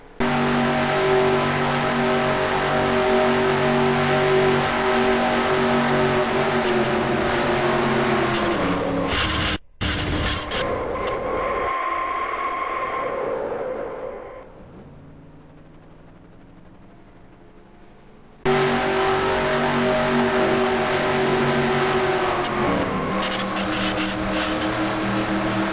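NASCAR Cup cars in the NASCAR Racing 2003 game, loud sustained engine roar from onboard, briefly cutting to quieter engine sounds and winding down before the full roar returns.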